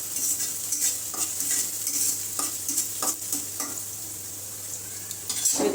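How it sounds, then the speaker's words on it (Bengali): Onion and chili frying in a wok on a home stove, a continuous close hiss of sizzling oil broken by repeated scraping stirs of a spatula against the metal pan, with no voices. "কড়াই দিয়েছি, পেঁয়াজ দিয়েছি, মরিচ দিয়েছি চুলায়।"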